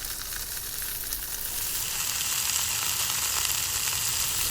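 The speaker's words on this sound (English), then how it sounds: "now I'm just waiting for the meat to get browned off" Pieces of chuck roast sizzle as they brown in a pan, a loud steady frying hiss held close throughout with no voices.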